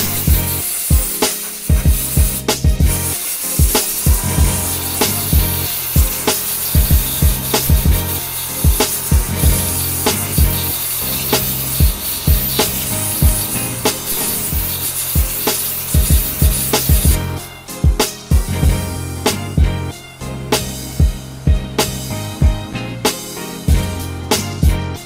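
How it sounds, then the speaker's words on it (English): Compressed air blasts through a paramotor carburetor fuel filter screen on a Vittorazi Moster Plus engine, a loud, rough hissing rush that keeps going with short breaks and pulses, heard close up with no talking. "be sure that you apply gentle pressure on the screen so when you blow with compressed air, the screen doesn't pop out"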